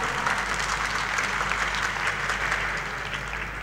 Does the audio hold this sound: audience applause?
yes